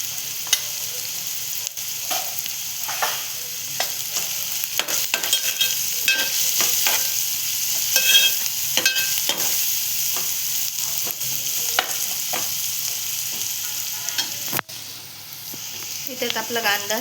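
Onions sizzle and fry in a pan for a fish curry as turmeric goes in, a steady bright crackle broken by repeated scrapes and stirring clatter of a spoon.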